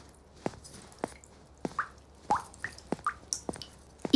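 A leaky tap lets water drip in a regular rhythm, about two drops a second, each a clear close plop in a quiet room.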